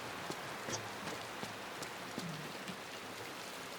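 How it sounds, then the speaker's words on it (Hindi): Rain falls steadily in the video game Inside, a soft continuous hiss broken by occasional faint drips and taps, with no other sound over it. "काफी देर हो गई, बारिश भी बंद नहीं हो रही गाइस।"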